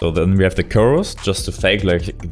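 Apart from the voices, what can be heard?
None of the usual background noises is heard.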